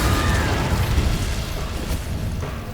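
An Incendio fire spell in Hogwarts Legacy bursts out as a deep, rumbling whoosh-boom that is loud at first and then trails off into a fading, fiery roar.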